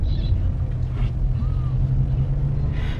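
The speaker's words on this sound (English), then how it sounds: "So I'm currently going over this railroad track" Car rolling over a raised railroad crossing on a road, steady low engine and tire rumble close by with a few faint bumps, brief muffled sounds from inside the cabin.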